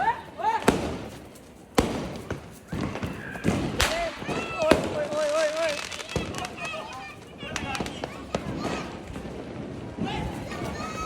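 Diwali firecrackers going off nearby in a series of sharp loud bangs and cracks at irregular intervals, some with crackling tails, while people talk and shout between the blasts.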